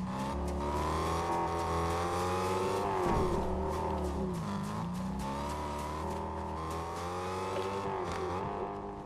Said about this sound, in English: This is a crazy engine.